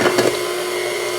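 An electric mixer with a whisk attachment churns peanut butter cookie dough in a bowl, giving a steady, close motor hum with a few clattering knocks at the very start.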